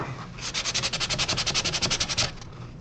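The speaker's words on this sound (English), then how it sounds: "just regular sandpaper seems to do the job." Regular sandpaper rubbed back and forth along the inside edges of a hand-built Final Fantasy V Astrolabe model, about twenty quick, even rasping strokes, close and clear with no voices.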